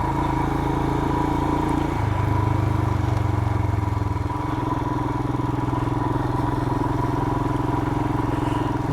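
A Royal Enfield Himalayan motorcycle rides off-road on a rural back road, its single-cylinder engine droning steadily and close with a slight shift in pitch partway through.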